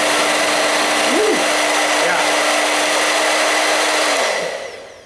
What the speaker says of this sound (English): I can tell you there's definitely a lot of power in this dryer, much more power than the dryer I've had in the past.